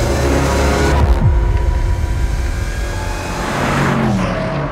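Range Rover Sport SVR engine on the Nürburgring circuit, a loud, steady roar with shifting pitch as the SUV passes close, continuing without voices.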